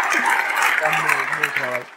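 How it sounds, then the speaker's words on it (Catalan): An applause and cheering crowd sound effect gives a steady wash of clapping and crowd noise, with a voice speaking over it throughout. "Gerard, aplausos, mucha gente, vítores, otra vez."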